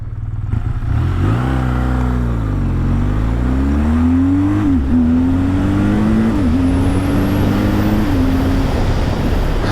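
A 2026 BMW R12 G/S motorcycle at highway speed, around 75, delivers a loud, steady close-up engine drone with wind rush, its pitch rising and dipping through shifts and throttle changes.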